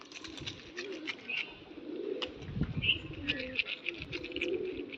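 Soft, low pigeon coos repeat close by, with a few higher chirps and light rustling around them.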